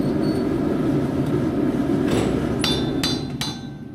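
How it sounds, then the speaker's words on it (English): A pneumatic rivet gun, handled by two men, drives a hot rivet into a steam locomotive firebox during an overhaul, a loud continuous rapid hammering that rings near and steady, then eases off with a few sharp metallic clanks. "You can see it's physically demanding work, with 2 men handling each rivet gun."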